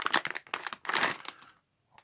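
A plastic packet from an AliExpress delivery crinkles and rustles in short handled bursts, close by, then falls quiet near the end.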